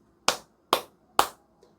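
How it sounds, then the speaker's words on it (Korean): Three sharp, evenly spaced claps ring out alone in quiet during a church service, offered as glory applause to the Trinity, each a single loud hand clap with a short decay. "삼일체 하나님께 3번 영광박수 올려드리겠습니다"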